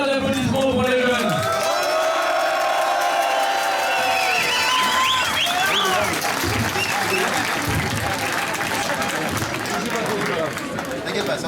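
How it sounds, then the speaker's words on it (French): A large crowd at a rally claps and cheers for young people, a loud dense roar of applause with whoops that carries on for over ten seconds, and a voice speaks briefly over it at the start. "un grand tonnerre d'applaudissements pour les jeunes"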